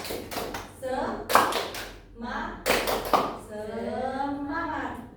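Children in a classroom do a rhythmic clapping ice-breaker, sharp bursts of hand claps in short patterned groups alternating with a teacher's and kids' chanted voices.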